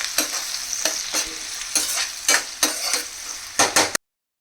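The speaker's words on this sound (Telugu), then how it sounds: "ఈ ఆనియన్స్ గోల్డెన్ బ్రౌన్ కలర్ వరకు ఫ్రై అవ్వాలి." Onions fry in a pan toward golden brown while a spoon stirs them in repeated scraping strokes over a continuous close sizzle. The stirring is rhythmic for about four seconds, then stops abruptly into silence.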